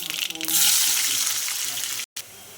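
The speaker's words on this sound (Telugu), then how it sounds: "ఫస్ట్ ఆవాలు వేస్తున్నాను ఫ్రెండ్స్. ఆవాలు ఎందుకంటే అవి చిట్టాలి" Mustard seeds hitting hot oil for a cowpea curry, with a sudden loud bright hiss and crackle that swells after a brief clatter, then sustains near and steady before cutting out.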